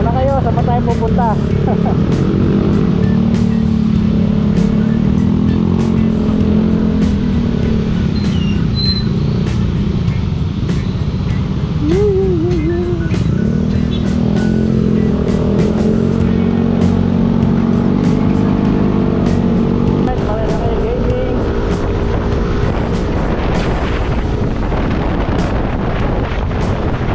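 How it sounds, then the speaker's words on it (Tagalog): Road traffic and engine rumble on a night ride along Marilaque after rain, a loud, unbroken roar heavily buffeted by wind noise throughout, with voices talking faintly over it. "Traffic pa rin dito kahit gabi na"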